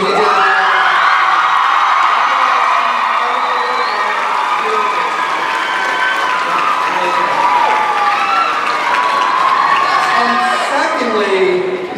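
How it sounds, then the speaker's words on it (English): Audience at a Teen Wolf panel at San Diego Comic-Con 2014 applauds, cheers and whoops loudly and steadily for the whole stretch, a dense crowd roar with scattered shouts, fading only at the very end. "give a collective round of applause to Dylan O'Brien for everything he did"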